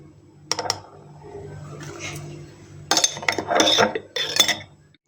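Metal spoons clink and scrape against a bowl in a few short bursts as spoonfuls of cocoa powder are added, close by, with quiet room noise between the clatters.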